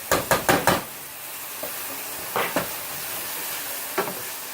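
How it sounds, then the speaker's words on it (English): Garlic sautés in a hot pan, a steady low sizzle under a quick cluster of four sharp utensil knocks, then a few scattered taps of stirring against the pan. "Sauteing. I'm going to add my garlic."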